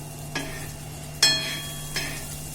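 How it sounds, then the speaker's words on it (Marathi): Surmai fish slices frying in a pan, a soft steady sizzle broken by three short bursts of crackling spatter as the pieces are shifted and turned, the middle burst the loudest. "असे उलटे सुलटे करून आपल्याला फ्राय करून घ्यायचे"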